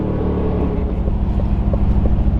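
An Aston Martin Vantage heard from inside, its exhaust giving a deep, close rumbling drone with uneven pulsing pops and crackles over a couple of seconds.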